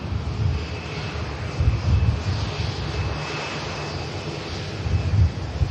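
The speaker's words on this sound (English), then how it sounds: "From one Dreamliner arriving from the Middle East." Boeing Dreamliner jet arriving from the Middle East at Manchester Airport, a steady, broad engine roar heard from a distance with slight swells.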